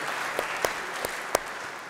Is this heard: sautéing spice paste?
no